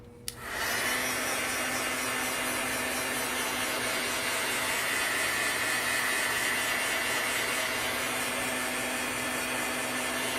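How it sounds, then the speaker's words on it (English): A hair dryer blows on fresh watercolor paint, starting with a click and then running as a steady, close whooshing hum with no voices over it. "Again, I will take my dryer."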